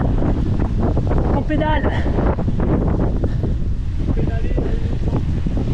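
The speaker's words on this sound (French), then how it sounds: "on a le vent de face" Strong headwind buffets the microphone of a cyclist pedalling on a slight downhill, a loud continuous roar of wind noise, with a voice speaking briefly over it.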